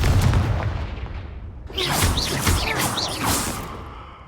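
A Confringo spell fired in a Hogwarts wizarding video game, giving a sudden burst at about the midpoint followed by crackling, whooshing blasts that stand alone with no talk, after a low rumbling lead-in.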